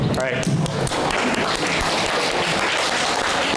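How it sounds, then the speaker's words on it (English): An audience at a talk show on academic and professional planning breaks into loud applause, a thick burst of many hands clapping that carries on steadily, with a voice briefly mixed in at the start. "Everybody give them a round of applause"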